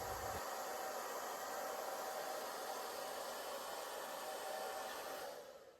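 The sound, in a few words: hair dryer blowing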